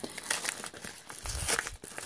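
A plastic packaging bag from a phone parts delivery crinkles and crackles as it is handled, in busy irregular bursts of rustling up close, with no talk.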